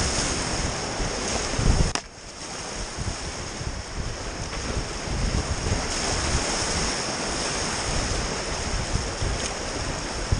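River waves rush and churn on the Shiribetsu River in Hokkaido, a steady broadband roar of moving water mixed with wind buffeting the microphone, loud and close, with no talking.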